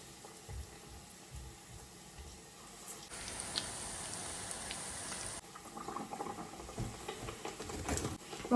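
Black-eyed pea fritters (bobbara vadas) sizzle and bubble in hot oil, a steady frying patter that swells into a louder hiss partway through, with faint background clatter.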